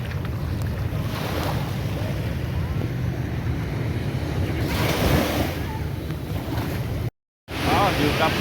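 Sea waves break and wash onto the beach at Nha Trang in a continuous roar of surf with gusts of wind noise, loud and close, briefly cut to silence near the end.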